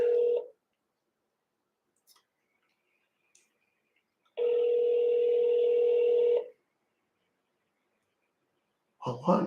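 An unanswered telephone call on a scambaiting line: two long steady ringback tones separated by silence and a few faint clicks, followed by a brief burst of voice at the end.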